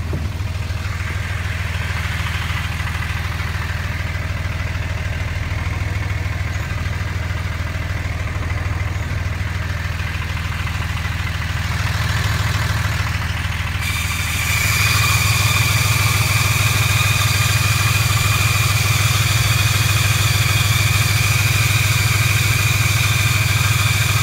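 Pickup truck with a G56 manual transmission idling with a steady low rumble; about halfway through, a thin high-pitched squeal appears and persists over the engine drone, heard from near the underside.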